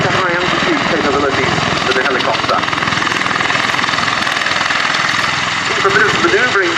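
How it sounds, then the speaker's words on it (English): A loud, steady rotor and engine roar from a Bell Boeing CV-22B Osprey tiltrotor aircraft flying nearby at an air show, with a throbbing drone that continues throughout. "The tilt rotor configuration gives it a wide pitch range,"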